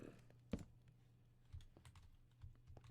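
Scattered keyboard taps from someone typing on a computer while playing Minecraft, isolated clicks spaced irregularly over a faint steady background hum, close and quiet.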